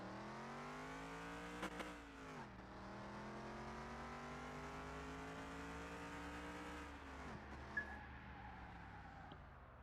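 A V8 Hemi-powered Tempest race car in a video game drag race roars with a steady, loud engine drone, rising in pitch through the gears with brief dips at shifts around two and seven seconds, no talking.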